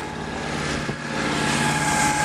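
A Triumph Rocket 3 motorcycle passes by on a road, its engine a steady, continuous drone with a low throbbing pulse that swells slightly toward the end, heard from a car amid traffic.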